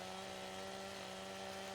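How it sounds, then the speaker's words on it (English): A steel chainsaw in Farming Simulator 17 cuts a tree with a steady, continuous engine drone, held at an even level throughout and fairly quiet, with no voice. "This Steel Chainsaw does a very nice job here."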